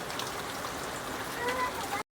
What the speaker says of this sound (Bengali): হঠাৎ করে বৃষ্টি নেমে গেল।